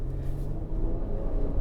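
A 2022 Acura MDX with SH-AWD works its way up a slushy, snowy hill, giving a steady low rumble of the engine and drivetrain with a rough, churning texture of tires over slush, no voices.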